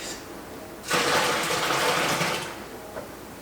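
Hot beer wort pours in a steady, fairly loud rush while brewing an English bitter from a kit. It starts abruptly, holds for about a second and a half, then tapers off, with no talking over it.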